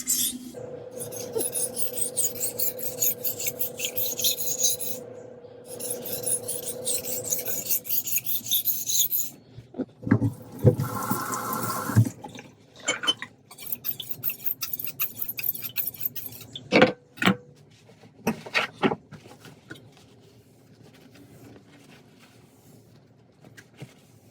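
A kitchen knife is drawn across a sharpening stone in steady rasping strokes, finishing on a fine polishing grit; the scraping comes close and clear, pausing between passes, with a few sharper scrapes toward the end.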